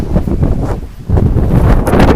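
Strong wind gusts roar and buffet steadily across the microphone at the Inca stone ruins of Ollantaytambo in Peru's Sacred Valley, loud and continuous with no voices.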